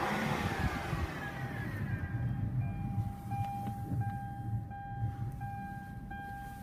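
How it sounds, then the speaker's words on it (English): A 2007 Hyundai Santa Fe Limited engine revving while parked, heard as a steady, fairly loud engine drone with rising whine and mechanical hum throughout, alone with no talk. "Let me rev it up for you."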